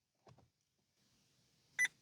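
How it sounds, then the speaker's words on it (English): A Vauxhall Corsa D instrument cluster gives a single short electronic beep after a quiet pause, with faint soft clicks just before it. "we hear a beep"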